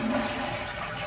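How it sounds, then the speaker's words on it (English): A toilet flushing just after its fill valve was replaced gives a steady, loud rush of water that continues without a break, close by, with no talking. "It has completely flushed"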